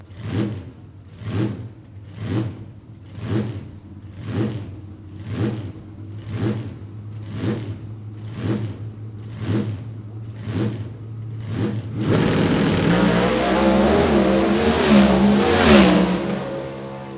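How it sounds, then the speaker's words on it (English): At a drag strip, a small-block Chevrolet 400 cubic inch engine in a Pontiac B dragster with an automatic pulses in a loud, rhythmic series of about a dozen revs, then roars into a sustained full-throttle run. "small block Chevrolet powered Pontiac over here on the left-hand side"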